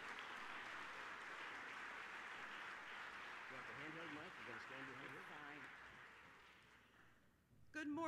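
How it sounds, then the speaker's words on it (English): Audience at a state developmental disabilities awareness kickoff event applauding in a large hall, steady distant clapping with voices rising through the middle, fading before a close sound at the end. "So how about a round of applause from Toledo."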